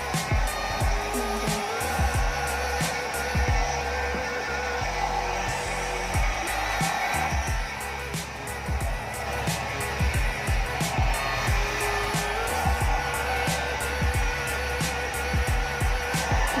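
A hair dryer blows steadily and loudly throughout, a constant whooshing roar with small fluctuations and scattered clicks and knocks.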